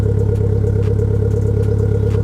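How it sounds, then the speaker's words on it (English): Renault Clio RS at tick over with its RS drive mode engaged, giving a steady, close, throbbing exhaust idle with an even low pulse and no voices. "this little RS drive button here, which does actually make a noticeable difference to the sound of the exhaust"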